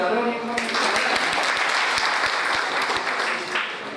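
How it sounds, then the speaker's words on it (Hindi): Continuous clapping from a workshop audience in a college hall, a thick, even roar of hands lasting several seconds, with a faint voice at the start. "तालियां बजा रहे हो।"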